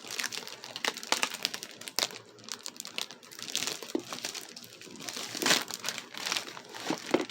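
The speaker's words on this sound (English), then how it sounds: "I was able to crack the plastic on this." Plastic wrap on a Magic: The Gathering Innistrad Crimson Vow box crinkles and crackles close up in quick, irregular bursts, a dry rustling that stays quiet with no talking.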